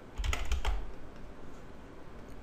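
A computer keyboard being typed on to copy and paste text, a quick burst of several close, crisp keystrokes at the start, then a quiet room.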